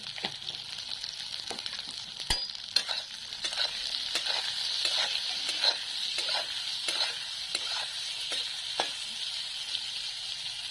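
Dry fish fries with turmeric and salt in a pan, giving a steady close sizzle with scattered sharp scrapes and taps of stirring.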